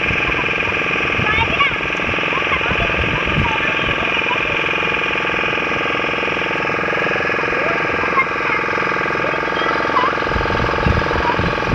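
A motor boat engine drones steadily at sea near the Maa Kalijai shrine, a continuous low rumble with water noise running throughout.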